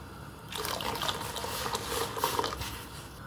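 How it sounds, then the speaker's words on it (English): Water splashes and trickles steadily into a container, a continuous wet pouring sound lasting a few seconds with no voices. "I'm gonna add a little bit more water to this"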